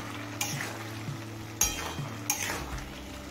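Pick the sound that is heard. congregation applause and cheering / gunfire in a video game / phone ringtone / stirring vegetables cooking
stirring vegetables cooking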